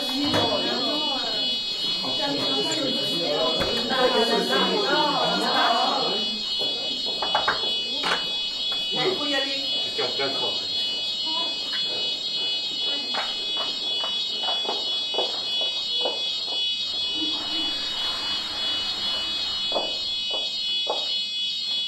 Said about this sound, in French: L'alarme incendie.